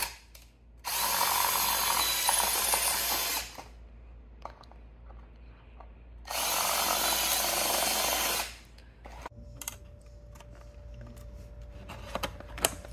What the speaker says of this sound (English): we'll have to drill these out and then drill our holes here and then install new rivets